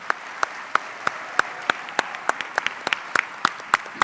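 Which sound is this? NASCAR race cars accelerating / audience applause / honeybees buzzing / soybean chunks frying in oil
audience applause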